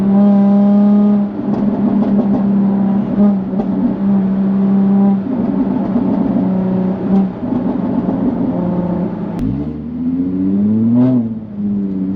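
Jaguar F-Type convertible (X152) exhaust in dynamic mode, a loud steady engine drone with revs rising and falling, ending in a sharp drop and a quick climbing rev near the end.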